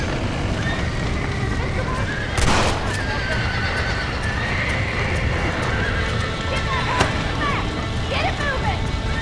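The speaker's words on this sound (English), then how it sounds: "Now get the horses out!" Horses whinny repeatedly over a dense wash of galloping hooves and crackling commotion in Red Dead Redemption, with shouting voices mixed in throughout.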